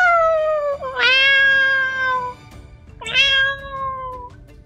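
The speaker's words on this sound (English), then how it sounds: "Badger wants to meow" A cat named Badger meows twice, with clear, drawn-out calls that rise then fall, separated by a short pause and standing alone against a quiet room.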